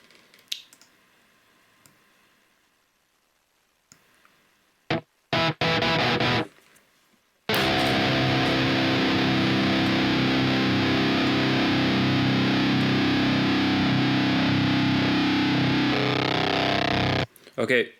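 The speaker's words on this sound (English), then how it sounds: "you don't want the release to be 1 because it starts to distort" A Periphery-style super-gated electric guitar with the noise gate release set to 1 gives a few short choppy bursts, then a long loud wall of harsh distorted sound that cuts off abruptly near the end.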